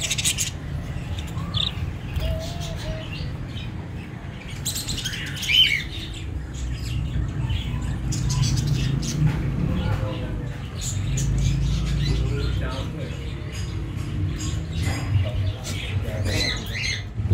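Small parrots and other caged birds in a village bird shop squawk and chirp in scattered bursts over a low background hum, with faint voices nearby.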